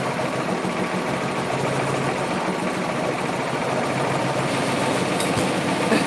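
A sewing machine runs at high speed, its steady motor whir and rapid needle chatter filling the room continuously and close up, loud enough to shake the camera.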